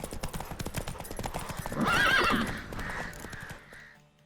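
Hooves clip-clop at a steady gallop in The Witcher video game, then a horse lets out a loud, rising neigh midway, with the hoofbeats carrying on beneath it and fading toward the end.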